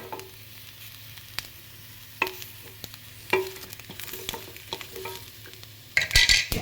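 Peeled garlic frying with brinjal and capsicum in a pan, a steady close sizzle broken by repeated scrapes and knocks of a stirring spoon, then a brighter burst of hissing near the end.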